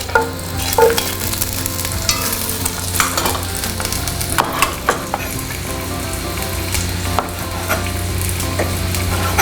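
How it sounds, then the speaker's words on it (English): Onions and garlic sauteing in olive oil in a pan hiss in a steady, close sizzle, with occasional light clinks and scrapes of stirring and no talking. "So we're taking and sauteing the onions and the garlic."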